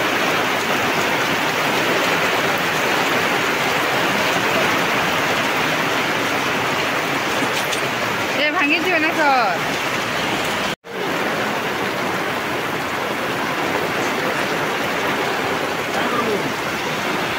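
Heavy rain pours down in a loud, dense, unbroken roar close by, with a brief voice partway through.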